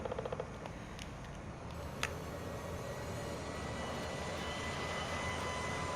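A large planter sowing soybeans in Farming Simulator 19 gives off a steady, continuous roaring drone much like an aeroplane taking off, with a few light ticks early on and no talking.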